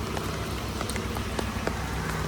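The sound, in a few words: heavy rain after a typhoon in Hong Kong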